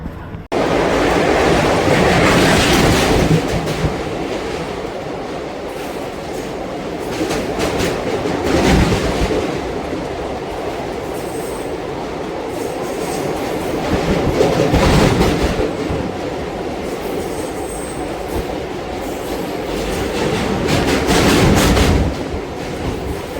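Express train 17250 from Kakinada to Tirupati pulls out of the platform and rolls along the rails, a loud steady rumble with rhythmic clickety-clack that swells and ebbs throughout, with no talk.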